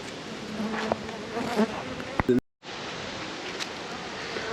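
Open hive of calm honey bees late in the season, heavy with stores, giving a steady close buzzing drone, with brief handling knocks and a short dropout partway through.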